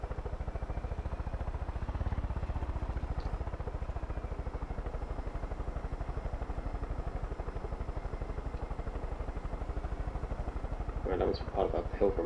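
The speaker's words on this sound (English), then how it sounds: "Helicopter." A helicopter in the open-world shooter Far Cry 5 gives a steady, loud rotor drone with a pulsing low chop throughout, joined by brief clattering near the end.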